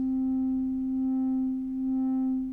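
A steady tone from the Arturia CS-80V synthesizer holds one pitch while a 1.12 Hz sine LFO on the low-pass filter slowly swells and fades its brightness in a gentle, regular wobble, alone and clean.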